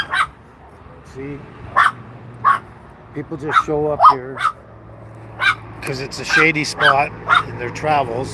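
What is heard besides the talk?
dogs barking outdoors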